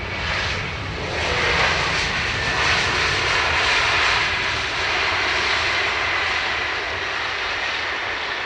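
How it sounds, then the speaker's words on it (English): An Airbus A321neo jet at Dublin Airport, arrived from Istanbul, gives a steady, loud, broad engine roar that holds without a break. "A321neo from Istanbul."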